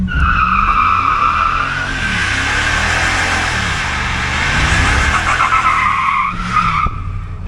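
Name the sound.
2017 Ram 1500 5.7 Hemi pickup truck doing a burnout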